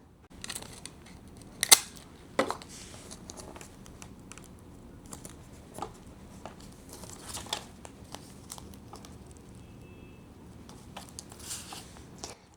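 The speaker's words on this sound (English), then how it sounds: "now these are ready to wrap around the postcards and stickers" Paper bands wrapped around postcards and stickers while packing a stationery wholesale order, giving quiet close crinkles, rustles and a few sharp snapping ticks spread across a calm, soft background.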